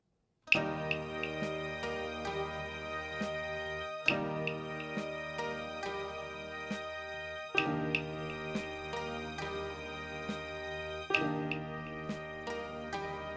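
Solo piano striking four sustained chords, each ringing out for a few seconds before the next, finishing on a long decaying chord.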